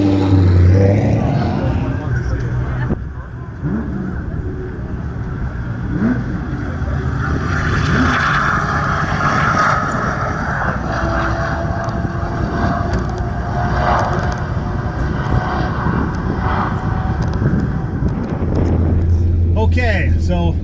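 A race car at speed during a hot lap at a racing event, its engine droning loud and steady from inside the cabin, with gear changes and road noise under occasional talk.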